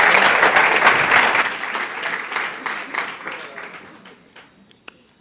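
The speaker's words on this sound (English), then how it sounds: "Another round of applause." Audience applause at a pitch competition, loud and dense at first, then thinning into scattered claps as it fades over about five seconds.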